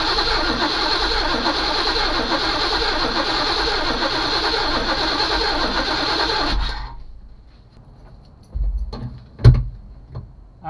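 A 1991 Chevy Caprice engine cranks over with a steady, rhythmic starter whir for about six and a half seconds without catching, then cuts off, followed by a few loud thumps and clunks nearby.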